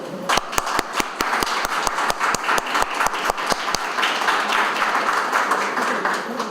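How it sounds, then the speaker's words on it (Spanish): An audience at a panhispanic linguistics conference breaks into applause, opening with a few sharp distinct claps that quickly swell into sustained, even clapping from the whole room. "Un aplauso."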